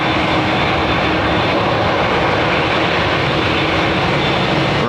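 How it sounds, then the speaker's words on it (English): British Airways Airbus A380 at Heathrow Airport delivers a loud, steady broadband jet roar that holds constant throughout, close and unbroken, with no talking. "he's on the 380 with British Airways"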